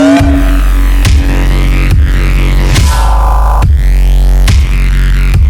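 A layered kick drum built from stitched-together samples thumps in a steady, loud pattern with deep booming low end and a sharp click on each hit, looping alone about once a second.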